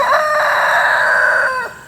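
A rooster on a homestead lets out one loud, close crow, a long strained call that holds steady then drops off at the end, with nothing else around it.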